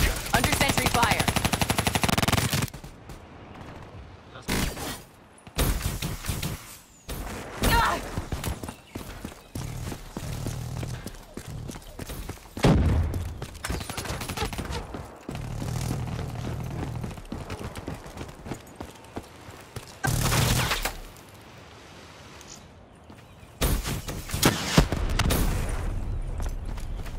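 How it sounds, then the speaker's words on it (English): A hostile hardened sentry gun in Black Ops 3 fires in loud, rapid automatic bursts, separated by quieter stretches of scattered gameplay sounds and short announcer voice lines. "Hostile hardened sentry spotted. Under sentry fire."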